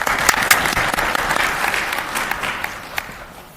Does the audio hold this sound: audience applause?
yes